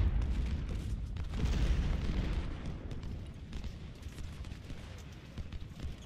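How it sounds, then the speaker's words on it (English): Artillery batteries fire in the Civil War strategy game Ultimate General: Civil War, a continuous low rumble of overlapping cannon booms and distant blasts rolling steadily without pause. "Tell all my artillery to open fire."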